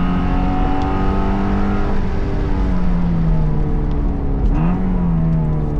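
A Porsche engine drones steadily and loudly while driving, with shifting harmonic pitch as revs rise and fall and a brief dip near the end, carrying continuously from inside the car with no talk.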